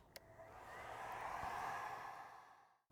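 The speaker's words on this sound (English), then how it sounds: "what we're going to do is use a heat gun to dry it out before we start the EWS" A heat gun drying damp window timber before a repair, its steady airy blowing roar swelling up and holding for nearly three seconds, then cutting off, with a faint click near the start.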